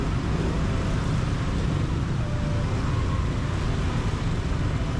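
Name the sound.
street traffic in Cambodia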